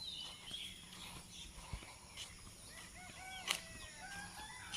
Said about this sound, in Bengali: 3টা মোরগ একসাথে ডাকতেছে।